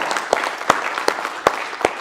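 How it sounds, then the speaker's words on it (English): A small audience claps for two guests, a handful of sparse, distinct hand claps spaced out in a loose rhythm, close and fairly loud. "Hey, another round of applause for Ernest and Ryan."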